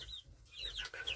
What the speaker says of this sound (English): come to find out, we have two roosters